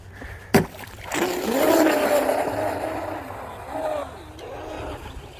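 A Blackjack 24 RC boat with an upgraded ESC, stock 2000kv 3650 motor on 4s runs at full throttle, a sharp click followed by a rising, whining electric motor roar that holds, dips and surges over several seconds.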